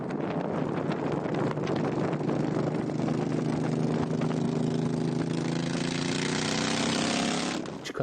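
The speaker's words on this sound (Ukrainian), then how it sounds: "останній мотоцикл це бегер нашого виробництва" A custom-built bobber motorcycle engine runs close by with a steady throb, its pitch climbing as it revs over constant wind rush.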